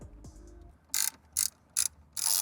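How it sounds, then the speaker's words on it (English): A ratchet and socket remove 10mm bolts beneath a car radio: four quick, crisp bursts of ratcheting clicks, close and clear, follow a soft low thump. "Go ahead and grab a ratchet and socket and just go ahead and start removing them."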